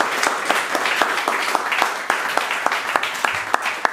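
An audience applauds Esther Perbandt at the Astro Noir event, a steady, fairly dense round of hand clapping with sharp individual claps standing out, continuous throughout without talk over it.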